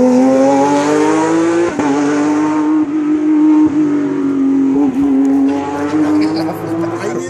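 Porsche rally car on a stage of the Rally Gandia between Simat and Puigmola, engine revving hard and shifting gears as it goes by at speed, loud and close, with spectators talking.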